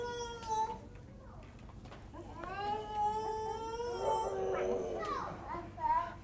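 A voice imitates a dog, giving a run of high, wavering yelps and howl-like barks, close and fairly loud, with some quieter talk mixed in.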